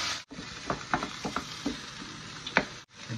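Fresh tomato hitting a hot pan with sautéed onion, garlic and tomato paste for marinara sauce, a broad close sizzle with scattered spoon-and-pan clatters and a sharp louder burst near the end.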